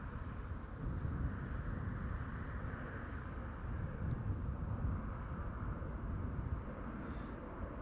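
Boeing Dreamliner airliner departing Amsterdam Schiphol Airport, a steady distant jet roar that holds evenly throughout, faint and broad with no talk over it.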